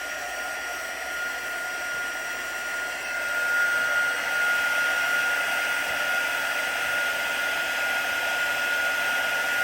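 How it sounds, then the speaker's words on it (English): Heat gun blowing steadily while melting embossing powder on a card, a continuous close airy whir that grows slightly louder partway through, with no talking. "Heat the gun again, although it's pretty hot, so it should be fine"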